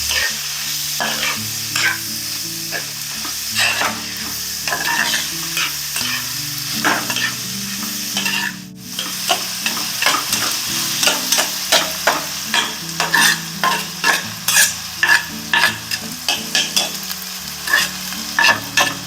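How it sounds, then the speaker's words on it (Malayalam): Tomatoes sautéing in a pan for a Malayalam-style beef curry: a constant close sizzle overlaid with repeated spatula scrapes that become a quick, regular rhythm in the second half, with no voices. "എന്നിട്ട് തക്കാളി കൂടി ഇതിലിട്ട് നന്നായി വഴറ്റാം"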